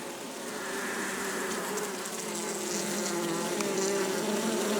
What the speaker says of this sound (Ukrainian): У відрі бджола працює.